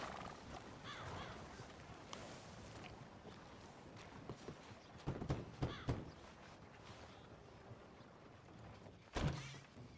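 Horse hooves clop unevenly over a low, quiet outdoor ambience in the video game Red Dead Redemption 2, with a few louder thuds near the middle and at the end.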